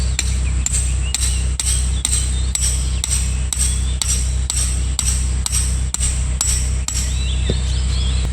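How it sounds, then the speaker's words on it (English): Regular metallic hammer strikes driving a tent peg into the ground outdoors, about one per second, ringing sharply over a steady low hum, with faint birdsong in the background. "hammered the peg halfway down"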